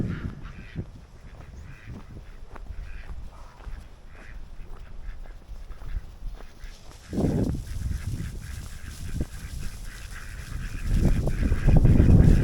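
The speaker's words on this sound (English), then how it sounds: "Of course, ducks choose water and rain any day." Ducks quacking and honking repeatedly on a farm in the rain, fairly close, with the calls growing louder and busier toward the end; no talking.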